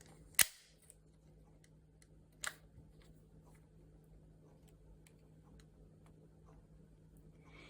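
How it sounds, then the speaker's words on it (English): Two sharp stapler clacks punch through a paper matchbook folder, the first loud at the start and a second a couple of seconds later, followed by quiet room hum. "You're going to staple into that 1/8 inch."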